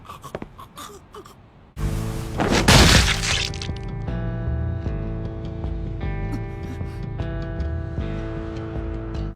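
An anime sound effect of a head stomped until it bursts: a loud, sudden crunching smash with a shattering burst that decays into sustained music.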